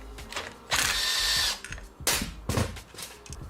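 A ratchet wrench loosens the starter bolts on a GY6 150 scooter engine, with two bursts of rapid clicking separated by short clanks and handling noise, close up.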